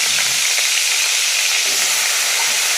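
Raw eggplant pieces hit hot oil in a wok already seasoned with black cumin seeds, giving a loud, constant hissing sizzle that fills the whole stretch without pause.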